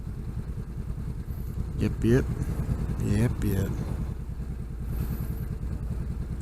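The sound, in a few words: motorcycle passing, probably a Honda Rebel 500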